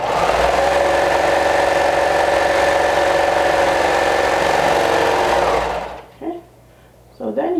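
A serger sewing machine stitches a half-inch seam in a steady, loud, continuous run of about six seconds and then stops, leaving a few faint handling noises.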